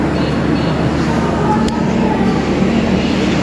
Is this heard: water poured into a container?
no